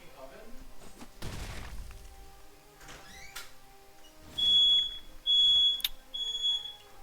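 A household smoke alarm beeps in shrill, loud repeated bursts, three piercing pulses in the second half, over faint room noise and some clattering.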